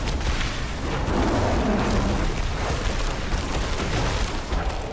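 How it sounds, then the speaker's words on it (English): A spell explosion in the Diablo 4 action game, in hardcore mode with an Earth Bear druid: a sustained, dense rumbling roar with low booms that holds steady and loud for several seconds, with no talking. "let's not be in the middle of the explosion when it goes off"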